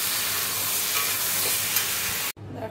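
Ridge gourd, potato and tomato curry being stirred in a pan, with a dense sizzle and a spatula scraping that cuts off abruptly near the end.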